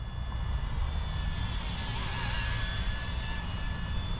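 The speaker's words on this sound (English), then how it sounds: "It's a small, light helicopter." Esky 150EC small scale RC helicopter in flight, a steady high-pitched motor whine with faint whirring rotor hum, constant and fairly quiet.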